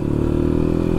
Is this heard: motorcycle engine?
yes